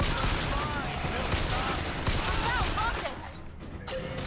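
Enemy gunfire in the video game Bioshock Infinite, a dense, continuous burst of shots and battle noise lasting several seconds, loud throughout with speech mixed in and a slight drop near the end.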